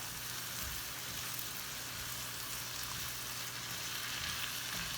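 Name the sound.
sauerkraut browning and being stirred in a pan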